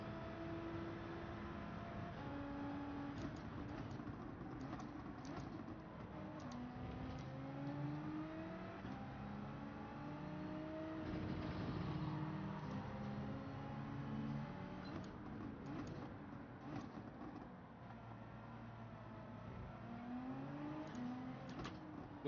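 A race car engine in Gran Turismo 7 revs and shifts through gears, its pitch sweeping up and down repeatedly over steady game audio. The engine stays continuous and moderately loud throughout, with no voices.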